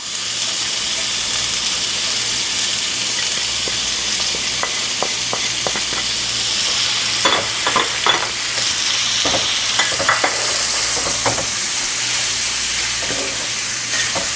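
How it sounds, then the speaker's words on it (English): Beef liver with ginger, spices and salt being stir-fried in a hot pan, a loud continuous sizzle broken by rapid clustered spatula scrapes and clacks, heaviest toward the second half, close up with nobody talking. "Stir fry for 2 minutes."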